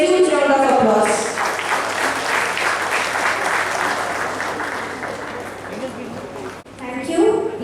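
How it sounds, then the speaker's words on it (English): A large audience claps to welcome the chief guest, Engineer B. Ashok, at an engineering college alumni association event, sustained applause, with voices heard near the start and again at the end. "I request the audience to welcome him with a huge round of applause"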